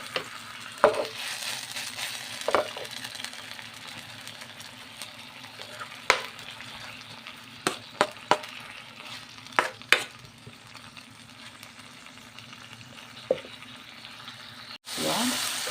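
Kare-kare sauce with soft tomatoes being stirred in a non-stick pan, giving a low, steady simmer with scattered scraping clicks of a utensil, and a burst of running water near the end.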